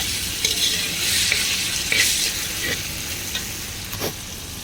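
Chow mein noodles and vegetables stir-fried in a pan, a steady close sizzle with scraping stirs and light clatters of the spatula recurring every second or so.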